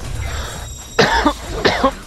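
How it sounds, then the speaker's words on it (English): In the game Tokyo Jungle, a beagle coughs twice in cold, smoggy Tokyo. The two short, rasping bursts come about half a second apart over quiet game background. "Don't start coughing!"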